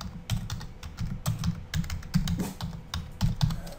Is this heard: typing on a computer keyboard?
yes